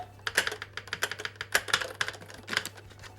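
Keys on a retro Japanese computer keyboard are pressed in a quick, irregular run of close, crisp clicks and clacks over a faint steady hum, with no talking.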